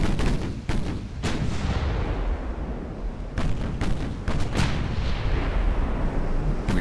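Warship guns firing in the naval battle game Ultimate Admiral: Dreadnoughts, a series of sharp, heavy cannon blasts in irregular bursts over a constant rumbling background, loud and without talking.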